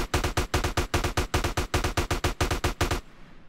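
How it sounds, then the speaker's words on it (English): Rapid automatic gunfire aimed at a car's wheels in GTA San Andreas, about twenty loud, evenly spaced shots in a steady rhythm for three seconds before cutting off into quiet. "Let's try and shoot his wheels."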